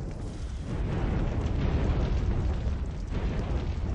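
A burning flame butterfly sets a statue alight in Dark Souls II's Undead Crypt. A dense, roaring rush of fire swells after the first half second and holds steady and loud throughout.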